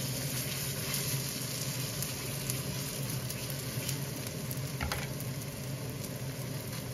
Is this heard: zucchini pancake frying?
yes